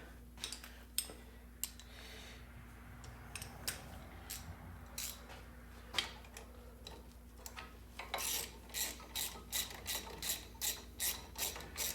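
A ratchet wrench with an extension tightens a 10mm bolt during strut replacement on a Grand Caravan, with scattered clicks at first, then a rapid, regular run of loud ratcheting strokes near the end.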